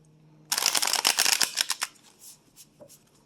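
Tarot cards are shuffled by hand in a quick flurry of crisp, papery riffles and taps, close and fairly soft, tapering off into a few scattered light clicks.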